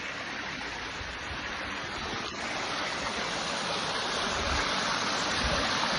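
A mountain stream tumbles down from high hills in the Konkan countryside, a steady, dense rushing of water that stays close and loud throughout with no voices over it.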